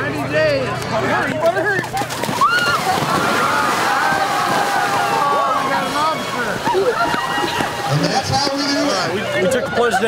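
A crowd of people plunges into icy water at a Polar Plunge charity event, with sloshing and splashing under loud shouting, cheering and chatter throughout.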